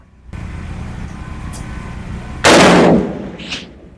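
A single loud rifle shot cracks at an outdoor 500-meter range, followed by a short rolling echo, over steady background hum and wind.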